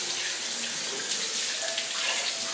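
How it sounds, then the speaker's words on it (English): Tap water runs steadily from a faucet over a Rose of Jericho plant being rinsed in a sink, a continuous close splashing hiss with no talking. "So I just take her and I just rinse her under the faucet,"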